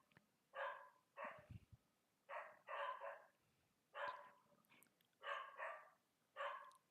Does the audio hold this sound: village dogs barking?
yes